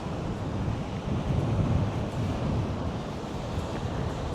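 Strong wind buffets the microphone over a steady roar of surf breaking on a soft-sand coastal beach, continuous and fairly loud with no voices.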